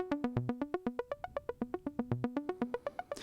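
A plucky Oberheim TEO-5 synthesizer arpeggio with a 12 dB per octave filter closed further repeats in quick, even notes with a dull, muffled tone, playing alone without voices.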